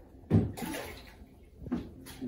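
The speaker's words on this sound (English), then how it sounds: "You rinse the test tube with the water you are testing" Water splashes and swirls as a test tube is rinsed with sample water for a water-testing kit: two short bursts of sloshing, close and moderately loud, with no talking.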